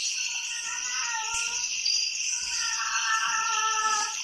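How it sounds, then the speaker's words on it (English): A cat meows repeatedly over a steady high-pitched, insect-like background drone during a horror game, the calls coming close and fairly clear in short bursts. "Sorry, that's my cat."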